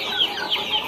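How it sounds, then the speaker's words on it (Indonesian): Breeding hens let out to roam at midday give a few soft, close clucks within a moment. "Ini kita umbar semua indukan yang ada di sini ya teman-teman."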